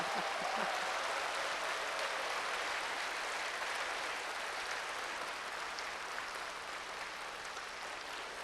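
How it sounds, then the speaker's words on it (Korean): An audience claps continuously as a guest, comedian Jeon Yu-seong, walks up to the stage, with faint sustained applause filling the room and a few brief voices early on. "도착할 때까지 박수 치는 거예요"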